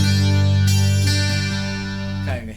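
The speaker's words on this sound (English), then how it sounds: "There's also a really cool chorus on this amp" Godin A12 12-string acoustic-electric guitar played through an amp's chorus effect. A sustained, shimmering chord rings out, gently swirling, with a few soft notes added before it fades. It is close and alone.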